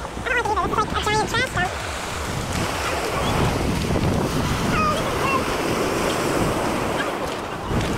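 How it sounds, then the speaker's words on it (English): Atlantic Ocean surf crashes against coral rocks on the Barbados coast, a loud continuous roar mixed with heavy gusts buffeting the microphone and a few faint high chirps early on. "listen to the sounds of the Atlantic against the coral rocks"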